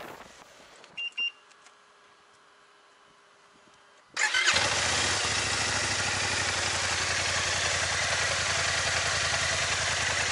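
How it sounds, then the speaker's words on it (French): After a few seconds of near quiet with faint clicks, a Kymco AK 550 Premium maxi-scooter engine starts abruptly and roars loudly, revving hard and holding a strong, steady drone up close. "c'est surtout la vigueur de la poussée et le bruit du moteur,"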